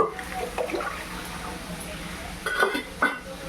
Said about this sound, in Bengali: ভালো করে ডালটাকে এবার ধুয়ে নেব।